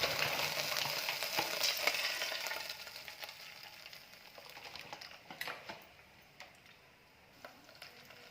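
Oil sizzles in a pan for chicken tomato gravy, a bright steady hiss that is strong at first and then dies down, followed by a few sharp ticks and clicks from the pan.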